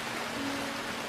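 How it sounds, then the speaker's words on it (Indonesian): Steady rain falls in a continuous, even hiss with no distinct drops, fairly faint and unbroken throughout, with no voices. "Hujan yang tidak kunjung reda"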